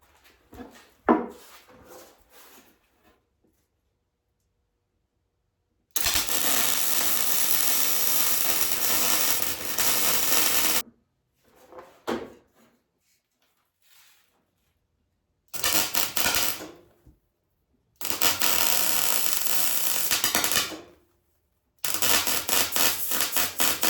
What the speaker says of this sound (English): You can hear how this welder is acting up.